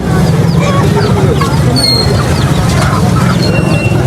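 Aseel chickens in cages at the Lari Adda poultry market in Lahore cluck and chatter continuously amid a dense, busy market din.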